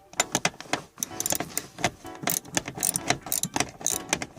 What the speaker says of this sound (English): using my extender and my socket, which is a 10mm socket, I'm going to reach in there